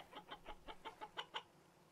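Chickens in the Vintage Story video game cluck in a quick run of about eight short, evenly spaced calls, fairly close and clear, with no talking over them.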